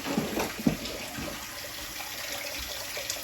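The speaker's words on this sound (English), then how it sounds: "I'm gonna rinse off this knife." Kitchen tap water runs steadily into a sink while a knife is rinsed during home cooking of chicken and dumplings, a continuous moderate splashing hiss with a couple of brief clunks near the start.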